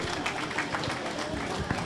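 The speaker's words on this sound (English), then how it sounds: "A round of applause for him, please." Dense, continuous audience applause for a speaker at a public forum on a referendum commission and new constitution in Nigeria, a steady rattle of many hands with voices mixed in.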